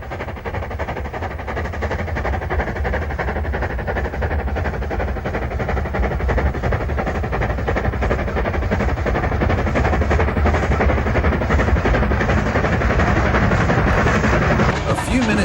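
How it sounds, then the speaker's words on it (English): Steam Class 5 locomotive heading a down freight on the West Coast line at Shap, banked by a Fairburn tank engine, a loud continuous rumbling roar of engines and wagons throughout, building slightly toward the end. "The West Coast Road at Shap with a Class 5, 45173 heading a down freight, banked by a Fairburn 264 tank"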